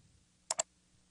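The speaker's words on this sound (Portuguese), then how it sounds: "Primeiramente eu vou clicar no botão consulta" Two quick, crisp mouse clicks in close succession on a software button in the Nutro2.0 program, near and isolated against a faint, quiet room hum.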